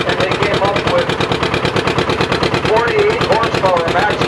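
A 1949 John Deere R tractor engine pulling hard against a prony brake dynamometer at around 50 horsepower, a steady loud throbbing with rapid regular firing pulses, continuous throughout, with people talking over it.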